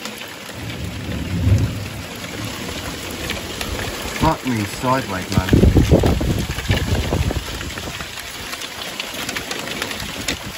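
Heavy rain pounds steadily throughout a thunderstorm, with a deep rumble of thunder building in the middle and a man swearing in amazement over the downpour.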